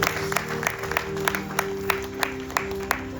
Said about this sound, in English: Give our dear Swamiji a round of applause.